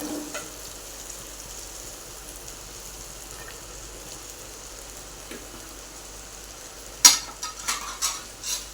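Okra sautéing with spices in a pan, a faint continuous sizzle for most of the stretch, then a cluster of sharper scraping and stirring knocks near the end, close by and without talk.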